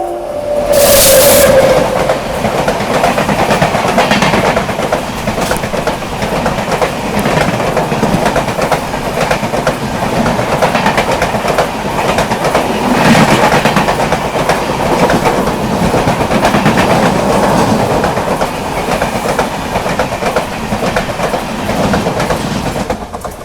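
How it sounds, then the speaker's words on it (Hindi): The Madgaon–Chandigarh Goa Sampark Kranti Express roars past close and loud during the monsoon on the Konkan line, a short horn burst at the start and then a continuous rushing, rattling clatter of wheels. "सामने से आ रही है मडगांव चंडीगढ़ गोवा संपर्क क्रांति एक्सप्रेस"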